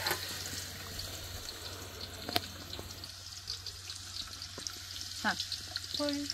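Onion tempering in hot oil for goat mutton cooked on a wood-fired clay stove, a faint steady frying hiss with a sharp clink, light splashes and occasional distant voices in the background.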